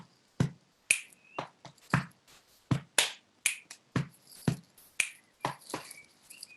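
Body percussion in a samba rhythm: sharp claps, finger clicks and dull chest slaps in a quick, steady syncopated pattern, close and crisp against silence, with no voice.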